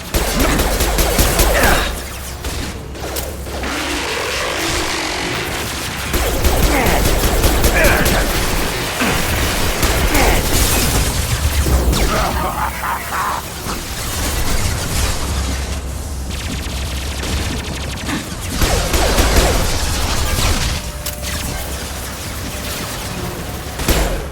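Mass Effect combat fills the scene with dense, loud bursts of gunfire and booming impacts that roll on continuously, while voiced dialogue sounds over the battle.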